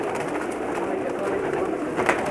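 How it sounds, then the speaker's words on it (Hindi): Teddy pigeons coo in a steady, soft murmur, a continuous low warbling from several birds close by, with no voices over it. "बहुत ही स्पेशल कबूतर दिखा रहा हूँ मैं आपको"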